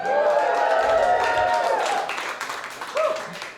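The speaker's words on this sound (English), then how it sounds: "While you're doing those applause" Crowd applause at the opening of a comedy festival night, a broad wash of clapping from a large audience that swells early and gradually thins out, with a host's voice cutting in over it.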